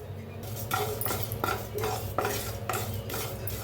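Whole spices such as cloves, black pepper, black cardamom, sesame, cumin and poppy seeds dry-roasting in a pan, stirred with a utensil in repeated scraping, rattling strokes over a low steady hum, close, with no talking.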